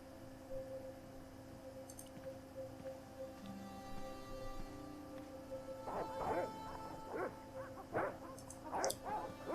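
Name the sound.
dogs barking in the video game Broken Sword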